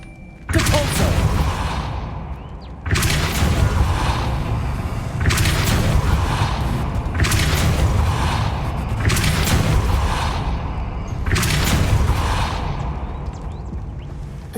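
Depulso force spell cast in Hogwarts Legacy: a series of loud, booming magical blasts with grinding, creaking mechanism sounds, repeating roughly every two to three seconds over a constant heavy rumble.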